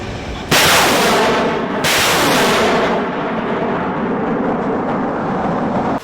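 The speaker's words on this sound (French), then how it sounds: "Avant les hostilités, c'est l'artillerie qui annonce les couleurs." Military artillery fire and rocket launches during a Burkina Faso security forces operation against terrorist bases, two massive booming blasts a second apart followed by a long sustained roaring rumble, very loud and close, with no voices.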